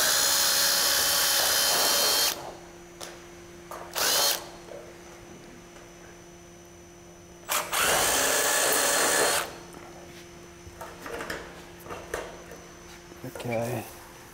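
A power drill bores out rivets on metal fascia during a roofing install, with two loud whining bursts and a longer one, separated by quieter stretches of clinks and handling noise, while people talk nearby.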